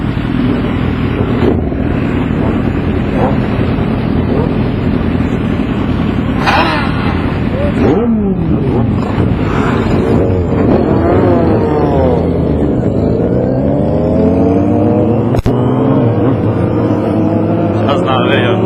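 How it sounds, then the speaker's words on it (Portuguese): Motorcycle engines roar continuously during a group ride on the road, loud and close, with wind buffeting the microphone and people talking over the noise. "Sente o ronco do motor, pai."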